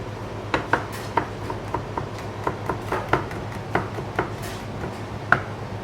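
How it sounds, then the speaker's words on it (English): Knife finely chopping garlic on a cutting board for aglio, olio e peperoncino pasta in a Tuscan kitchen, a steady run of crisp, close taps at an irregular quick rhythm, with a low hum beneath. "We chop really tiny."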